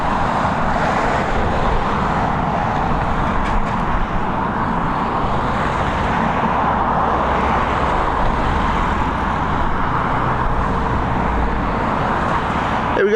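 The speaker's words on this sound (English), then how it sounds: "our next arrival, this Airbus A320 coming in from London Heathrow" An Aer Lingus Airbus A320 in rugby livery arrives at Dublin Airport from London Heathrow, giving a loud, steady, broadband jet roar that holds throughout with no break.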